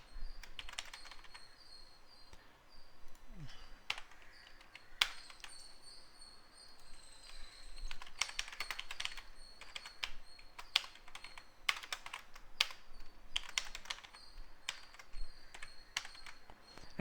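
A programmer types code on a computer keyboard: steady, close clicking of keys that runs throughout, with irregular bursts and pauses over a faint room hum.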